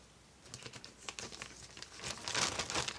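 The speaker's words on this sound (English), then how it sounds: "Sorry for the crinkling. There'll be a lot of crinkling here." Plastic packaging crinkles and crackles in bursts while yarn mail is unwrapped, growing louder and denser toward the end, with no talking.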